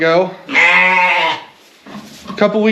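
Sheep on a small farm give a loud, drawn-out bleat, with shorter bleats before and after it, near and clear.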